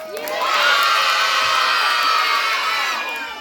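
A crowd of children at an Islamic school event for new students cheering and shouting yeay together, one loud sustained burst of voices that swells and then fades.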